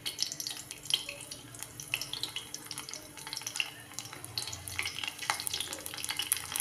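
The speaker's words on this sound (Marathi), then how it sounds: "आपण तेल गरम झालं आहे, लसूण टाकलं आहे." Garlic frying in three spoons of hot oil in a pan for a ridge gourd dish, a steady crackling sizzle with scattered sharp pops throughout.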